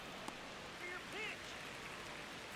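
Rain falls steadily during a baseball video game, a continuous close hiss with faint tonal voice-like sounds drifting underneath.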